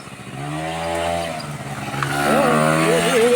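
A moped engine runs steadily with a low droning hum, then its pitch rises and wavers as it picks up speed and rides away, staying fairly loud and close throughout.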